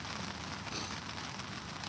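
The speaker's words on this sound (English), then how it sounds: "it's raining now, so got the steady patter of rain" Rain falls in a steady, soft patter during a walk-in camp cook with a Trangia stove, a continuous hiss-like drumming close around with no voices.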